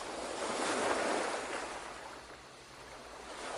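A wave breaks on the shore and then recedes, the rushing swell peaking early before easing into a softer, hissing pull of water sliding back down the beach.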